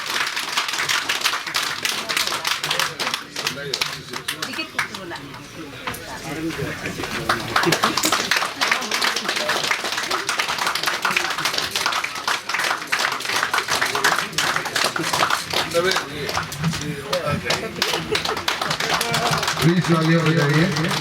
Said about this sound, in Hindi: ताली की कमी ना हो, जोर से तालियां बजाइए।